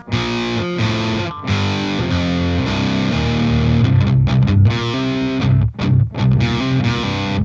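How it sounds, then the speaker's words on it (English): Loud distorted electric guitar plays a riff mixing ringing chords with chugging, palm-muted notes, with short gaps near the end. "you're going to palm mute them. So the second one's going to sound like this."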